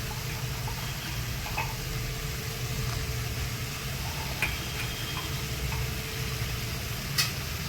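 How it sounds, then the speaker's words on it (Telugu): Soaked chana dal stirred in a pan for a curry, a low, steady sizzle with a few faint scraping ticks scattered through, no voices. "మంచిగా పచ్చెనగపప్పు వేసుకొని ఒకసారి కలిపేసుకుందాం"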